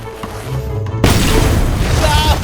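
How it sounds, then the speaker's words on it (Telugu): A sudden loud firecracker burst in a Telugu animated kids' cartoon, a sharp boom midway that gives way to a sustained crackling, hissing wash of noise. "ఇది క్రాకర్స్ కాల్చే సమయమా?"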